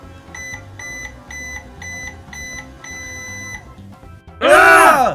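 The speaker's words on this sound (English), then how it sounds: "Let's put it in the microwave and turn it on." A toy microwave oven runs with a repeating electronic beep pattern of about six short tones, then after a pause a loud, bright burst of jingly chimes closes the sequence.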